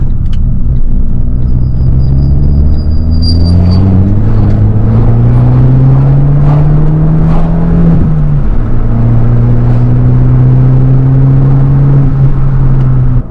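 A Fiat 500 Abarth Essesse engine while driving, a loud close cabin drone that climbs in pitch through the gears, with one quick drop at a shift before holding a steady, rumbling note.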